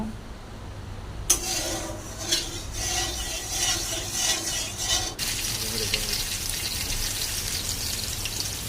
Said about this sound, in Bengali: এবার কড়াইতে তেল দিয়ে পটলগুলো ভাজি করে নেব